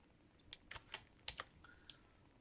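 Typing on a computer keyboard while entering Linux terminal commands: a handful of sparse, quiet key clicks at an uneven pace, close but faint, no talking.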